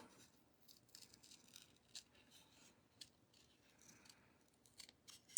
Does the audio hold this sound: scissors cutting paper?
yes